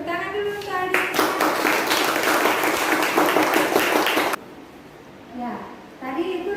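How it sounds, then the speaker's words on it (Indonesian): Pupils in a classroom applaud a classmate, steady close clapping from many hands for about four seconds that then stops abruptly, with talking before and after. "tepuk tangan dulu untuk Ardiansyah"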